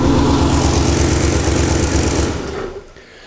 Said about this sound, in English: we definitely have a pretty big exhaust leak going on here